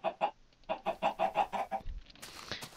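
A Minecraft chicken from the Stuffed Animals mod clucks in a rapid series of about ten short, clipped notes, fairly close and clear. A soft rustle follows.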